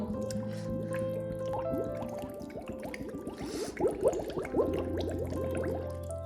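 Water drips and splashes into a container at a spring on the Siddhagad Fort trek, in quick, irregular plops, close and fairly soft, with a low steady hum underneath.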